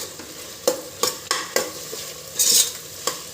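Chillies and tomato stirred and fried in a pan: a low sizzle under sharp, regular scrapes of a spoon against metal, roughly every half second, close and moderately loud.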